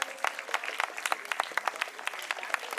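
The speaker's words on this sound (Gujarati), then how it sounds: "જોરદાર તાળીઓથી વધાવીએ" A school Independence Day function audience breaks into steady applause, dense overlapping claps sustained throughout at moderate distance, with no talking over it.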